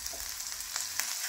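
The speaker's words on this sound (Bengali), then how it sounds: "এইভাবে নাড়তে নাড়তে আমার হালকা হালকা ব্রাউন কালার এসে গেছে" Spices frying in a pan for a paneer and fresh coriander gravy, a soft continuous sizzle with a couple of light stirring scrapes, fairly quiet and without voices.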